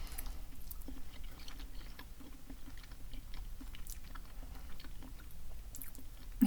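Someone chewing food while eating, heard as faint, close mouth noises with soft crunchy ticks over a steady low hiss, quiet and without talk.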